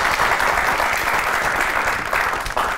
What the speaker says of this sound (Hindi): तो आपकी बहुत सी तालियों में द वन एंड ओनली